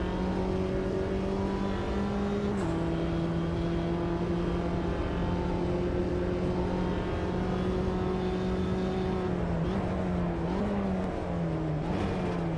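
A Mini JCW race car's engine screams loudly and steadily in Automobilista 2, with the pitch dipping at each upshift and several more quick shifts near the end.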